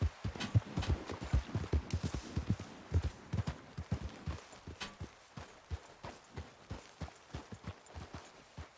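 Horse hooves clip-clop in Red Dead Redemption 2 as a quick, steady rhythm of close, distinct thuds, slowing and growing slightly fainter toward the end, with no talk over them.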